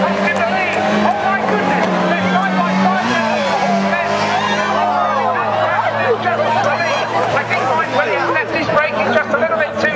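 Racing cars driving on the Cadwell Park circuit near the Mountain, engines droning and shifting pitch throughout while crowd chatter and talk run over them.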